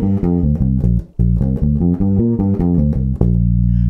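A guitar plays a quick, busy blues riff of clustered notes ending on a sustained note, loud and close, with no talking.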